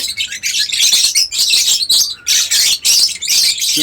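Several small birds in a flight cage chirp and tweet rapidly and loudly up close, overlapping calls in quick bursts with brief pauses and no talk.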